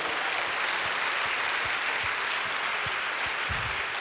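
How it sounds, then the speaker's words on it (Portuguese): A church congregation applauds during a Wednesday worship service, a dense, even wash of clapping heard at a distance, with a few low thumps mixed in. "Vamos dar um aplauso ao Senhor."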